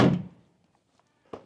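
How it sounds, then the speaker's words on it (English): A solid thud of a door shutting, followed by a brief quiet pause and then a second sharper knock or latch click. "see if I can close this door from the outside"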